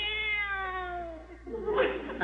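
A single long cat meow, clear and tonal, sliding slowly downward before breaking into a rougher, louder cry at the end, close and isolated.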